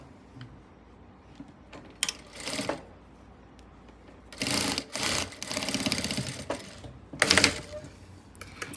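A sewing machine stitches piping onto a blouse in several loud, close bursts of rapid whirring, separated by pauses with faint handling noise.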